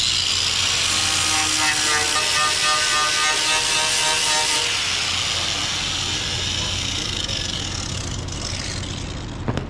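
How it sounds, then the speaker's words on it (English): A Harbor Freight 36-grit flap disc grinds rust off a Nissan 300ZX, a loud, steady, coarse grinding whine that runs without a break for about ten seconds and eases slightly near the end. "I'm just gonna use a 36, I think this is 36, flap disc, Harbor Freight"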